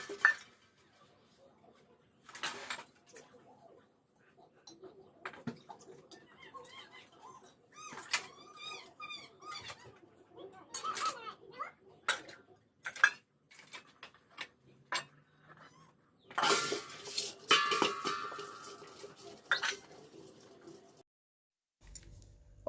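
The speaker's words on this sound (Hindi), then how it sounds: "फिर आ गए थे यहाँ पर बर्तन धुलने के लिए, क्योंकि बहुत सारे बर्तन रखे हैं।" Many pots, pans and utensils being washed by hand in a home kitchen, with scattered metallic clinks, clatters and knocks in irregular bursts, some louder scraping and splashing near the end, fairly close and without talk.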